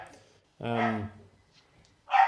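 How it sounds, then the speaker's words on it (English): A pet dog gives a short, fairly close bark followed by a second yelp a moment later, sounding from the background of a home podcast recording. "your dog's making noise again"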